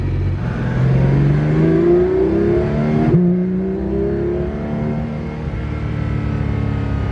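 Loud car engine revving close by, the pitch climbing and falling in sweeping waves over a steady rumbling drone.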